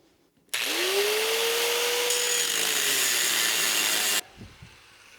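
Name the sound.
cutting off a metal piece on 1965 Thunderbird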